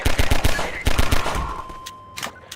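Turret gunfire in Half-Life 2: two close, loud bursts of rapid shots, then a fading hum and a few scattered impacts.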